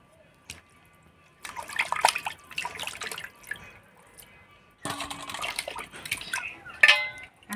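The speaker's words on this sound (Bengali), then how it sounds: "তো প্রথমে আমি মাংসগুলো ধুয়ে নিই।" Raw chicken meat is washed under running water, producing close splashing and dripping in two bursts separated by quieter moments, with faint background sounds.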